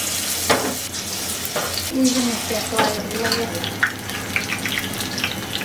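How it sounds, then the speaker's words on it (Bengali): Banana flower fritters coated in gram flour batter fry in mustard oil, crackling with a constant close sizzle broken by clinks and stirring scrapes. "আজকে হচ্ছে সর্ষের তেল দিয়ে ভাজবো"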